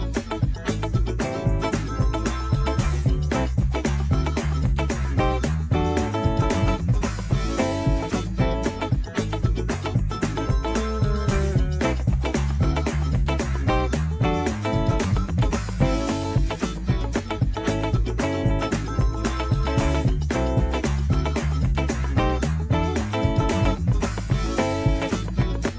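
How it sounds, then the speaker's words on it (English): Steady gospel guitar strumming through congregational quartet-style chords, full and loud throughout with a continuous rhythmic pulse and no talking. "You are going to learn 3 chords that will help you play congregational quartet style gospel guitar."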